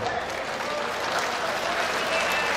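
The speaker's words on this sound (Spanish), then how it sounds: "les pido un fuerte aplauso" Crowd applause at a jaripeo rodeo fair, a broad sustained wash of clapping from a large outdoor audience, steady and fairly loud throughout with a voice faintly mixed in.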